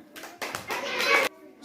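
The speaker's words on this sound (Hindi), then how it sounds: "तालियां।" Children clapping together in a classroom during a general-knowledge quiz, a short burst of hand claps lasting about a second, with a voice briefly before it.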